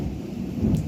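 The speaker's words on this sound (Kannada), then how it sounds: "ಗುಡುಗು ಎಲ್ಲನೂ ಬರ್ತಾಯಿದೆ." Low rolling rumble of thunder during rain, steady and fairly loud for under a second, with no voices.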